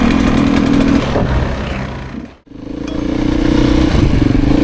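A 2023 Beta Xtrainer two-stroke dirt bike engine revs loudly and close, holding high, dropping sharply to near silence mid-clip, then climbing back up to a strong, steady rev.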